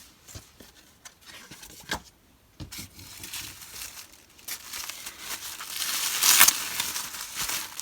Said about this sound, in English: I like the way that she wrapped her pocket letter in tissue paper